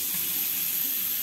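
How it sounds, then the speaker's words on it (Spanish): Water runs steadily from a tap in a Punta Carretas apartment in Montevideo, a constant broadband hiss at moderate level with no voices over it. "Buena presión de agua"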